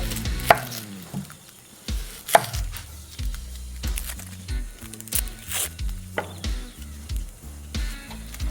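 Onions being chopped with a knife on a cutting board in a home kitchen, a series of sharp, close knife strikes in an uneven rhythm, with faint sizzling from frying bacon underneath.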